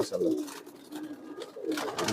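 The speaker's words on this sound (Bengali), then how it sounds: "সুন্দর সুন্দর কবুতর আছে এখানে" Several tournament-bred pigeons, one with a slightly curved beak, coo in low, rolling bursts close by, with a pause in the middle before the cooing swells again.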